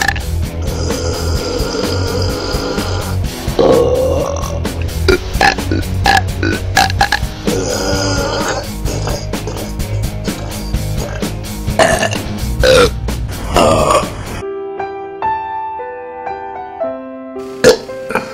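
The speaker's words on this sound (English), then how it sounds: "I've never been so happy to burp in my life." A woman burping loudly, a long run of deep, rough belches close to the microphone, followed by a quieter tail with a few faint tones and one more short burp near the end.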